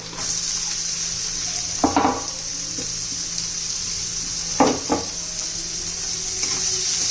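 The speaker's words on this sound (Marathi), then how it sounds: "तर त्याच्यात आपण कांदा घालणार आहोत." Onion sizzling in a pan with ginger garlic paste, a steady close frying hiss throughout, broken by a few brief clatters of a spoon stirring against the pan.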